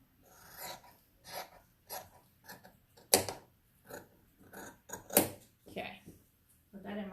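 Scissors trim loose threads on a quilt block, giving two sharp, close snips. Soft rustling and handling noises fill the quiet gaps between them.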